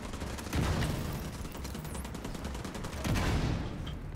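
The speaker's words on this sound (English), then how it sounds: "Let's throw some grenades at it" Bursts of rapid gunfire and grenade blasts in The Division 2, with two heavy volleys separated by lighter scattered shots and booms.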